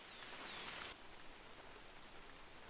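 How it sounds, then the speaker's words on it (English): Steady rain falls in theHunter: Call of the Wild, a soft broadband hiss that is a little louder for the first second and then stays even and quiet to the end, with no talking. "I am going to pause this until it stops raining."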